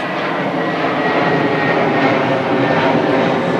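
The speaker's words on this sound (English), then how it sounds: "As a plane flies overhead, headed for the airport." A fixed-wing airplane roars steadily overhead while heading for a nearby airport, a loud continuous jet-engine drone heard outdoors over a garden, with no voices.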